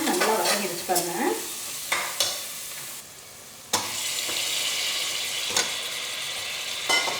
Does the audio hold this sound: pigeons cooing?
no